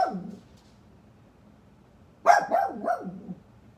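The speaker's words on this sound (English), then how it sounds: "We hear the slightest sound, they start barking." A faint whine, then a quick burst of three or four dog barks mid-clip, close and fairly loud against a quiet background.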